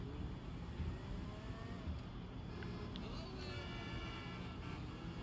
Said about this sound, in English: And now we can cruise around Vice City. And we have traffic.